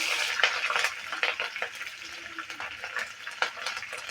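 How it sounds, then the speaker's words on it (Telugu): Mustard seeds and chillies fry in oil for a pulusu, with quiet sizzling, scattered popping crackles and a few utensil clinks, fairly faint and close. "ఆవాలు వేసుకున్నా ఆవాలు గోలుతున్నాయి అయితే మిర్చి వేసుకున్నాము"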